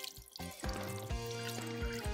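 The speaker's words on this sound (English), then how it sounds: "I'm going to wash it a few times until the water runs clear." Red lentils rinsed in a bowl under a running kitchen tap, with steady splashing water and a few louder sloshing bursts as the grains are swished; close and alone, no talk.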